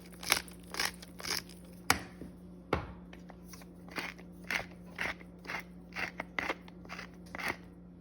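A pepper grinder grinding salt and pepper over cubed bread, heard close and quiet as a rapid series of crunchy, crackling twists in a steady rhythm over a low background hum.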